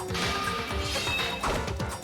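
Incinerator glass shattering in the video game Danganronpa: Trigger Happy Havoc, a loud sustained crash of breaking glass with clattering debris, heard alone.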